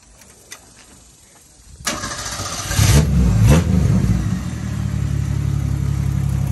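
A car engine with a Cherry Bomb muffler, recently rebuilt, cranks and fires up, then revs and settles into a loud, steady rumbling run close by.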